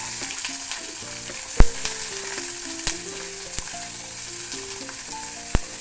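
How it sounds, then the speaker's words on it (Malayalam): Big onions fry in hot oil for rava upma, crackling loudly and continuously, while a spoon clinks against the pan a few times over quiet background music. "ഇനി നമ്മളതിലേക്ക് ഉള്ളി ഇട്ട് കൊടുക്കുന്നുണ്ട് വലിയ ഉള്ളി ഇട്ട് കൊടുക്കുന്നുണ്ട്"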